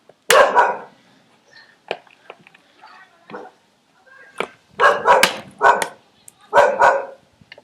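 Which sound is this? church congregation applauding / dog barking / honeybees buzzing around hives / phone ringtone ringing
dog barking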